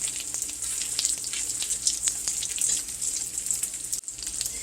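Pork schnitzel cutlets fry in a skillet, a close, steady crackling sizzle with dense spitting pops throughout, no voices.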